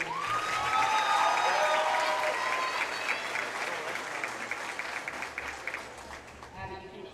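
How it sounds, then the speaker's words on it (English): A crowd in a high school basketball gym applauds for a senior cheerleader, a loud sustained ovation with cheering and voices that gradually tapers off, and squeaky shoe sounds near the end. "Everyone, please give a round of applause for senior cheerleader Miss"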